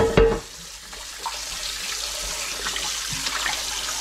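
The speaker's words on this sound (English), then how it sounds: "But we'll just give it a quick wash." Tap water runs steadily into a sink to rinse a brand-new Smithey cast iron skillet, a close, continuous splashing hiss after a brief knock at the start.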